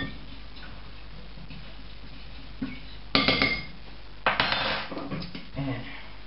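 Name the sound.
stirring pancake ingredients in a bowl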